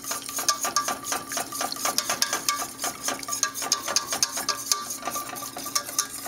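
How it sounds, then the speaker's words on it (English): Spoon stirring steak gravy in a pan, a steady run of quick scraping, clinking strokes with a faint sizzle beneath, close and continuous with no talk. "We'll just give it a good stir"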